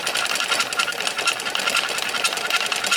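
A magnetic top spun by a 3-phase AC field, wobbling as it shifts out of flat spin at lower power, gives a loud, continuous, dense buzzing rattle that holds steady throughout.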